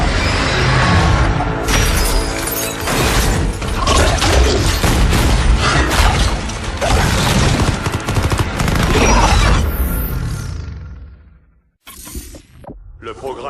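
A bomb set off in a game's Extinction mode gives a loud, sustained roaring blast that rumbles for about eleven seconds, cuts out abruptly, then returns in shorter bursts.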